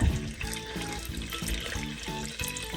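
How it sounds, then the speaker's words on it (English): A running pet water fountain in an indoor playpen splashes and trickles close by, with a steady watery patter and a faint rhythmic pulse, with no voices. "Apparently I need to turn the fountain off for now, or I splashed it real good"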